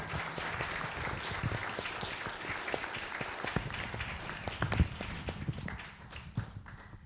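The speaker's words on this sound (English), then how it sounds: "Give them all a nice round of applause," Audience applause at a public community forum on housing in Tulare County, a steady, moderately distant patter of many hands that thins out near the end.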